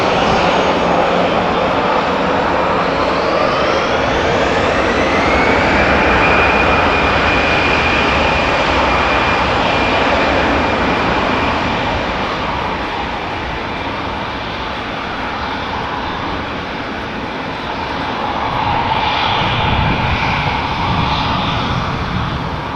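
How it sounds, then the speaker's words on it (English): An ITA Airways passenger jet bound for Milan roars loudly at Amsterdam Schiphol Airport, its engine noise swelling and holding steady, with a rising whine sweeping upward before the roar gradually fades and surges again. "Check out this baby, beautiful. ITA Airways flight 121 returning to Milan."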